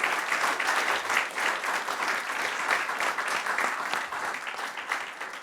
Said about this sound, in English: I think one more round of applause for our really insightful